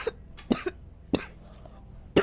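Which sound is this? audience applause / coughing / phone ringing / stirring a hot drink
coughing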